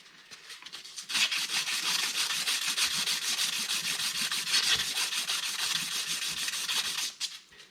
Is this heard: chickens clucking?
no